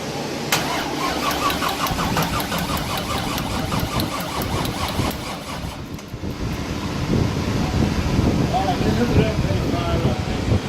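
A Corvette C6 Z06 engine cranks repeatedly without catching, a steady rapid whirring of the starter, then a pause and another long stretch of cranking, recorded close up.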